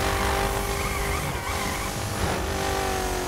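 A 1967 Shelby GT500 slides and skids in the racing game The Crew, a steady loud engine roar mixed with squealing tire tones that rise and waver across the few seconds, with no talking.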